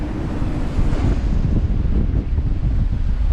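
Strong, irregular wind buffets a sailboat at sea sailing toward Antarctica, roaring against the microphone over the constant rush of waves, loud and close with no voices.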